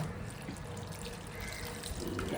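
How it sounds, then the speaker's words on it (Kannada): Steady broadband splashing and running water, continuous and close, as boiled and cooled water is poured from one pot into another, with no voices. "ಎಲ್ಲ ನೀರೆಲ್ಲ ಅದನ್ನು ತೆಗೆದು ಇನ್ನೊಂದು ಪಾತ್ರೆಗೆ ಹಾಕ್ತಾ ಇದ್ದಾರೆ"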